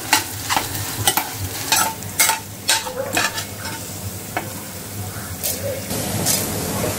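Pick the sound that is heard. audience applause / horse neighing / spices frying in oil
spices frying in oil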